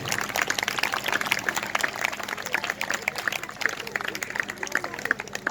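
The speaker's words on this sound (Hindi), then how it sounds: "अपने देश के लिए एक बार जोरदार तालियां बजाइए" A Republic Day audience of students and parents claps loudly for the country, a dense continuous patter of applause filling the room.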